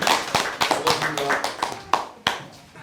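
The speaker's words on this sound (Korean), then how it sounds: "박수로 환영해 주시기 바랍니다." Scattered, uneven handclaps from a small audience at an academic conference, fairly close, fading out after a few seconds.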